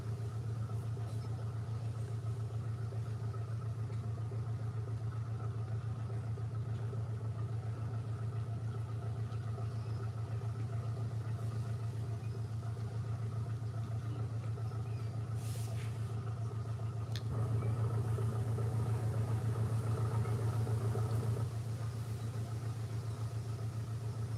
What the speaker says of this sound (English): Several boats approaching now, look, right down at the end.